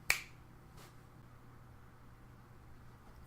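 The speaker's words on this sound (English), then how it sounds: "I'm going to snap my fingers" One crisp finger snap cracks close and loud at the very start, followed by a faint second click and then a low steady hum with no talking.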